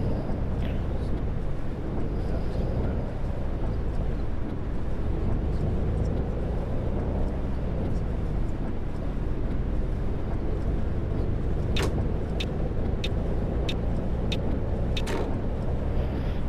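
Bus engine in Fernbus Simulator on the Berlin–Potsdam route, a steady low droning rumble that holds evenly throughout, with a few sharp ticking clicks in the latter half.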